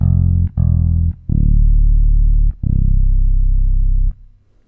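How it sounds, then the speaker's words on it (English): Bass patch on a Roland Juno DS synthesizer: a deep, loud, sustained synth bass playing a few long notes with short gaps between them, ending in a brief fading tail. "And on the bottom, we have a bass."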